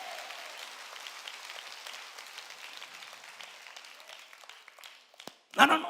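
A church congregation claps together during a Korean sermon, a steady wash of applause sustained for several seconds before fading, then one sharp burst near the end.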